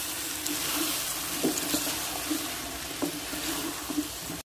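Potatoes and cauliflower sizzle and fry steadily in a pan, with occasional scraping stir strokes cutting through the constant crackle; close and moderately loud, no voices.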